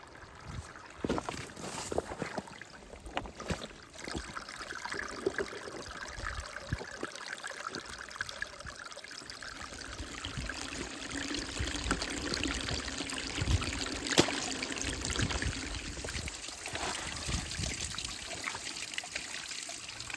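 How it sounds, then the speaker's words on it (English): Heavy runoff streams down a hiking path after days of rain, a steady close rushing and trickling wash with splashy bursts, continuous for the whole stretch with no voices. "I'm not sure that there would normally be this much water flowing down the path"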